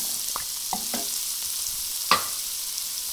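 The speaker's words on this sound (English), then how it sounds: "While that's happening, we're going to add in our onions," Onions sizzle in butter in a pot for a one-pot chicken and rice, a soft, steady hiss with a few light stirring knocks and one sharper clink near the end.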